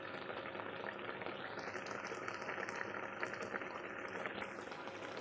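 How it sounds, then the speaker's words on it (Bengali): Mustard fish curry with pabda fish bubbling as it boils in a pan, a steady close simmering hiss and popping that continues throughout with no talking. "এই দেখুন ঝোলটা কত সুন্দর করে ফুটছে"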